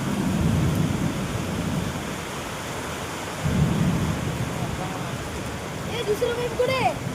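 Heavy thunderstorm with strong wind and pouring rain at a house, a dense steady roar of rain with deep rumbling swells, and voices briefly near the end.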